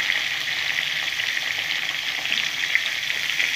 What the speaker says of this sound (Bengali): এরকম করে সুন্দর করে তোমরা ভেজে নেবে।